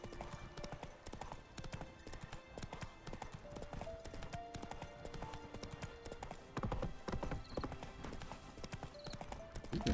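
Steady clip-clop of a horse trotting in The Witcher 3 video game, a quick even hoof rhythm over soft background music tones.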